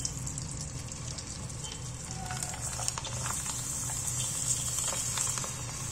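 Poha papad fries in hot oil with a steady, close sizzle and a fine patter of bubbling that swells slightly as it goes on.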